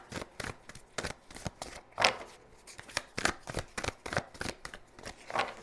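Tarot cards shuffled by hand in a quiet room, a quick rapid series of soft papery riffles and taps, close and fairly faint, with no talking.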